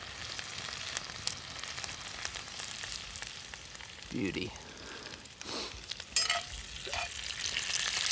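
Onions cooking in butter in a cast iron pan, a soft continuous sizzle with occasional stirring scrapes, fairly faint, with a brief spoken word and some background movement.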